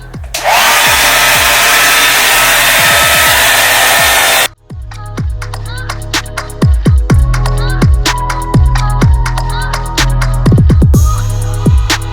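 A blow dryer with a direct heat attachment runs on warm high, a loud, close, continuous rushing roar that cuts off abruptly partway through and gives way to a dense patter of clicks and brushing sounds.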